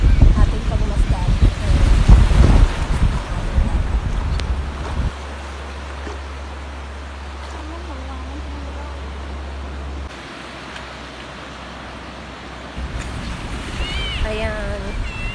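Sea waves washing ashore at Chunan, Taiwan, a steady broad wash of surf mixed with wind rumble against the microphone. There are a few quiet voices near the start and end.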